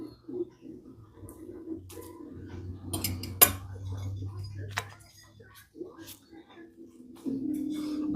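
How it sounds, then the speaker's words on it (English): A cooked egg broken up in a pan with a utensil for an asparagus and egg sandwich, with sparse light taps and scrapes of metal against the pan under a speaking voice and a low background hum. "And then just kind of break it a little bit."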